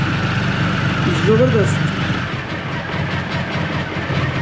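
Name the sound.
motorcycle engine running after cold start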